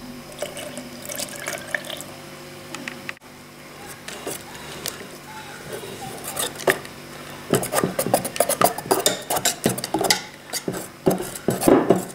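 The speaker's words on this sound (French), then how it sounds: "On verse petit peu par petit peu le lait. Puis on touille." Milk being stirred into a mixture in a saucepan, with utensil scraping and clinking against the pan plus wet sloshing, quiet at first and growing into busier, louder strokes over the last few seconds.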